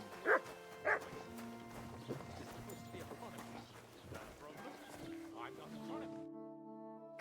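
Two sharp dog barks ring out at the start inside the medieval video game Kingdom Come: Deliverance II, loud against busy game ambience with a horse's clip-clop and music, while someone talks over the scene.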